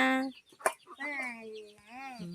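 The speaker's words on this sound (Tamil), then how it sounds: "கோழி எங்கள் வீட்டு கோழி" A domestic hen clucks and makes drawn-out, rising and falling calls close by, in a few short bursts of sound.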